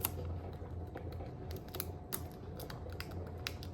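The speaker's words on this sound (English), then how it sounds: "A little bit of tape on there." Small taps and crinkles of tape being pressed down to hold a wick centred in a beeswax candle, a run of light, close clicks over a low steady hum, with no talking.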